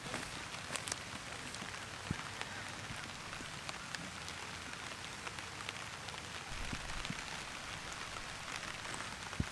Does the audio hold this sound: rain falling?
yes